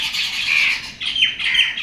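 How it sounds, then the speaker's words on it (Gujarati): Crows and mynas call in loud, harsh bursts nearby, several overlapping squawks coming in waves with no talking. "કાગડા કાબેરો અને"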